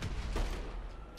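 A close explosion in the video game GTA, a deep broadband boom that swells and rolls for about a second before tailing off, with no voices over it.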